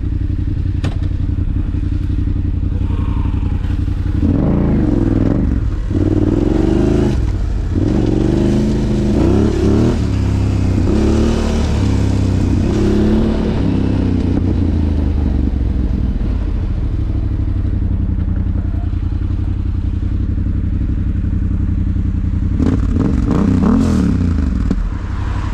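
A Yamaha 125 motorcycle is ridden at close range, its engine revving and rising in pitch in several surges, with thumps and clatter from the ride, loud and steady throughout with no talk.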